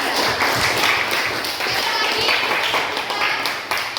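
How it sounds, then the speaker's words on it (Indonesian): Classmates in a school classroom applaud a student, a dense, steady patter of many hands clapping at once, filling the room with voices mixed in. "Tepuk tangan untuk April."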